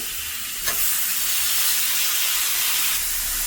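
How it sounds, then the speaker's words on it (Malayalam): Cleaned chicken pieces hit a hot pan for semiya (vermicelli) chicken pulao, setting off a loud, steady broadband sizzle with a brief clatter near the start, no voices. "നമ്മൾ വൃത്തിയാക്കി വെച്ചേക്കുന്ന ചിക്കൻ ഇതിലേക്ക് ഇട്ട് കൊടുക്കുകയാണ്."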